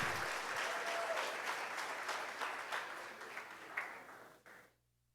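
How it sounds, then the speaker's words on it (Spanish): A church congregation claps together in a sustained burst of applause that thins out and fades to silence by the end. "si le va a dar un aplauso al Señor, hágalo"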